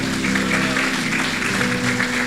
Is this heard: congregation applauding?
yes